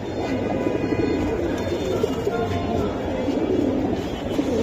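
A flock of silver Giribaz pigeons coos steadily at a busy market, the soft murmuring rising and falling under constant crowd noise and distant talk.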